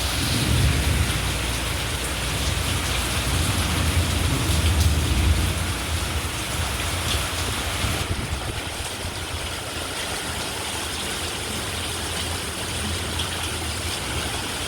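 Heavy rain pours steadily with a low rumble of thunder in the background, a dense continuous hiss.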